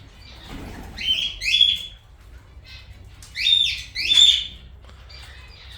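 Small birds, canaries, zebra finches and lovebirds, in a garden aviary give bright, sharp chirps in two quick clusters, close and clear over a quiet background.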